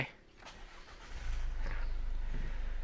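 An Isuzu MU-X 2023 engine is started with its push start button: quieter cabin sounds give way at about one second to a steady low diesel idle rumble that holds to the end, close and moderately loud.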